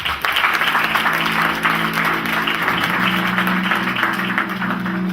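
A church congregation clapping hands for Jesus, a loud, continuous wash of applause with sustained tones from music or voices underneath, lasting the whole stretch.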